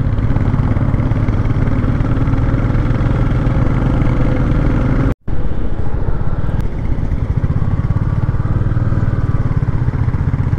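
A Royal Enfield Classic 350 motorcycle engine thumps loudly and steadily up close on a ride in Meghalaya, with one brief dropout midway before the rumble resumes.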